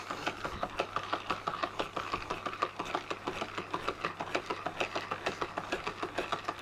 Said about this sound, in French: Un petit tour de moulin.